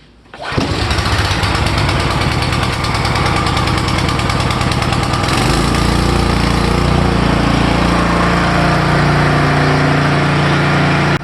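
A Troy-Bilt Vortex 2610 snow blower engine, set to fast speed, is pulled to a start after about half a second and keeps running loud and steady, a close, continuous mechanical roar with no talk.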